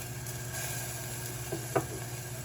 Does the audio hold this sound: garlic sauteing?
yes